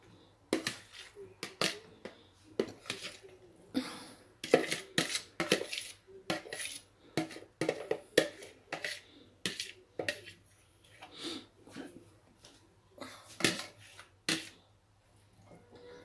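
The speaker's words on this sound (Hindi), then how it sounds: "अब मैं इसको डाल लूँगी दूसरे बर्तन में" Dishes and utensils clink and scrape as salad is moved from one pot into another in a home kitchen, a run of short, close, irregular clatters with brief pauses and no talk.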